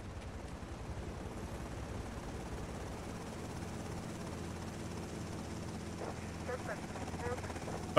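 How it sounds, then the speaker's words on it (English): A police helicopter in the Grand Theft Auto Vice City game gives a steady, throbbing rotor drone throughout, blended with other game sounds and growing slightly louder toward the end. "We've got a police helicopter after us."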